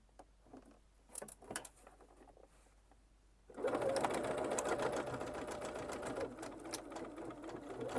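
A domestic sewing machine runs steadily, re-sewing a few stitches along a jacket collar, starting after a few seconds of quiet handling and holding a continuous close whirring drone to the end.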